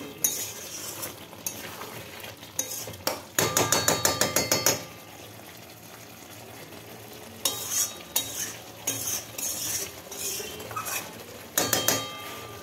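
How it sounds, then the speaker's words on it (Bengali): Potato dum with moong dal sizzles as it is sautéed in a pan, with bursts of rapid spoon scraping and clanking against the metal between stretches of steady frying hiss. "আলুর দমটা ভালো করে কষানো হচ্ছে।"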